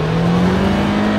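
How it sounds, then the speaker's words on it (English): A Ford Mustang with the EcoBoost engine holds a loud, close, steady rev, a strong droning engine tone with no break and no talking. "We have a new EcoBoost engine."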